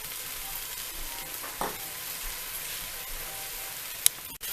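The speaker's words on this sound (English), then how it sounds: "I'm going to give this a good mix." A dry spice mix of cinnamon, turmeric, curry powder and salt is stirred in a bowl for freekeh, giving a soft continuous scraping rustle with a few sharper clicks near the end.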